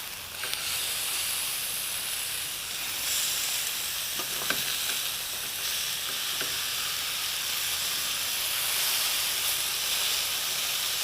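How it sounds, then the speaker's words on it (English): Chicken sizzles steadily in a hot pan, a continuous close hiss of frying with a few faint clicks and scrapes as the pieces are flipped. "Before we add our last ingredient, I'm just going to flip the chicken."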